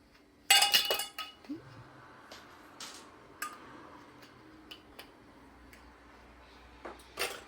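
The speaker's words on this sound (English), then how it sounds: "we'll take our lids, put them on the jars" Metal canning lids set onto glass jars of tomato juice, giving sharp clinks and ticks: a dense cluster of clicks at first, then scattered single taps spaced a second or so apart, close and fairly quiet.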